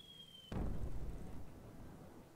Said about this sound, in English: Bomb dropped.